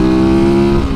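Lightweight supermoto motorcycle engine revving, a loud, steady buzzing drone with strong harmonics heard very close and alone for about a second.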